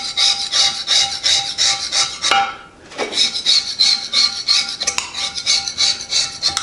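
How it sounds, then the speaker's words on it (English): Razor blade held in vise grips scraping rust off a Rockwell drill press, with rapid, rhythmic, gritty rasping strokes up close, a short pause in the middle, then more steady scraping, and no talking. "But usually a razor, put it in a pair of vice grips like this. And you can do a pretty good job scraping now."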